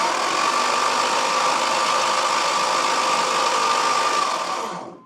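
A flooded Aston Martin Vanquish engine runs steadily at idle with a constant rumbling drone and a faint whine, then cuts off abruptly at the end.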